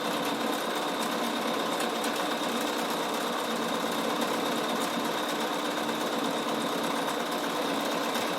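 A Bernina embroidery sewing machine stitches a design steadily and continuously, its rapid mechanical whirr filling the whole stretch at an even, close-up level with no talk over it.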